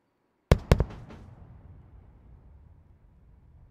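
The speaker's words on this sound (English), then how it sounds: "And a nice sonic boom and touchdown." A SpaceX Falcon 9 booster returning to Landing Zone 1 in Florida sets off its sonic boom: two sharp, loud cracks in quick succession, followed by a fading low rumble echoing over silence.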